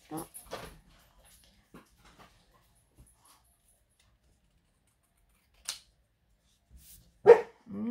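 Dogs giving a few short, isolated barks and yelps, sparse and separated by long silences, with one louder bark near the end, set against an otherwise quiet indoor room where a voice speaks briefly.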